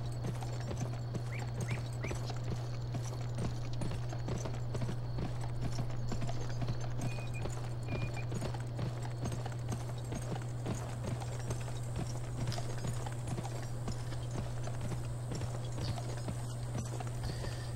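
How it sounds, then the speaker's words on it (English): Rapid, continuous hoofbeats of a galloping horse in a video game, steady rhythm throughout over a constant low hum. "You are riding your horse too hard."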